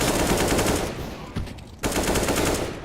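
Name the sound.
UMP submachine gun fire in Counter-Strike video game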